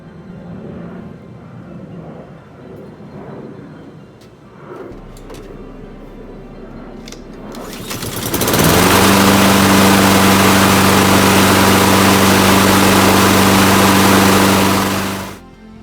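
A few quiet clicks and pulls, then a lawn mower's small engine sputters to life and runs loudly at a steady roar close by.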